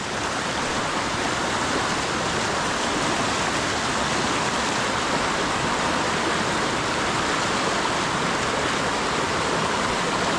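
A dense, constant roar of a Southern California waterfall fills the whole span, steady and close, with no voices.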